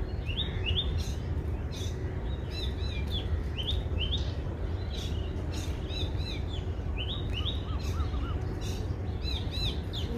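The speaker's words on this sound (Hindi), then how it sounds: "एक साथ सारे के सारे पक्षी बोलते रहते हैं कि पहचानना मुश्किल हो जाता है कौन बोल रहा है" Many birds in a single tree chirp and sing at once in an overlapping chorus, with repeated tweets and trills over a steady outdoor hiss for the whole stretch.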